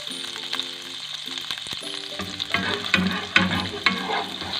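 Flour frying in a pan over a low flame for a cheesy chicken pasta white sauce, with a steady soft sizzle and repeated scraping stirs that grow louder and more frequent toward the end.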